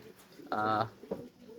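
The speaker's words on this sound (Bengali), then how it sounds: "আমার বাসার কিছু কবুতর আছে" A caged pet pigeon kept at home gives one soft, rolling coo at close range, with people talking before and after it.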